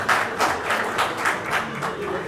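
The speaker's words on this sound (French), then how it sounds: "Applaudissements s'il vous plaît." An audience at a semikha rabbinic ordination ceremony claps together in a rhythmic, pulsing round of applause, fairly close and steady for the whole stretch.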